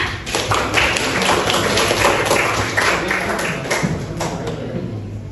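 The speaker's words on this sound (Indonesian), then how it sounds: "kita beri aplaus buat keduanya" Classroom applause for two students during a coaching session: dense, steady clapping from a group of people, loud and close, running continuously for several seconds without any talk over it.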